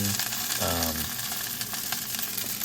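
Brussels sprouts fry in a shallow layer of oil in a pan, producing a steady close sizzle with a brief voice-like murmur near the start.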